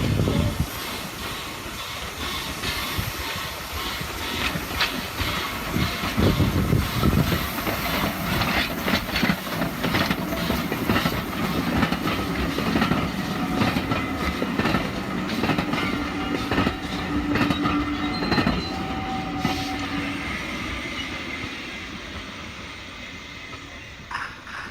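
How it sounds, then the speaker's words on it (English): A Hornby Terrier model locomotive, No 40 "Brighton", pulls four-wheel coaches in steadily on the track, its clickety-clack and motor whir continuous and close, easing down near the end. "the train's arrived safely"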